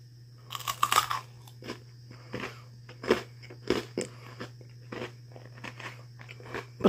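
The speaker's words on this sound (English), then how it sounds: "It's crunchy, very crunchy. Like a chip." A freeze-dried treat is crunched and chewed up close, a series of sharp dry crackling bites followed by softer irregular chewing crunches, with a steady low hum underneath.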